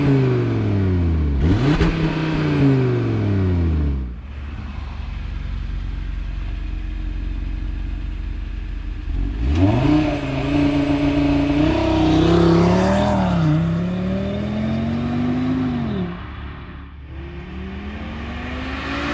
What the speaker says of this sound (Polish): Dźwięk tego samochodu jest po prostu fenomenalny, taki rasowy i obecnie już niespotykany na rynku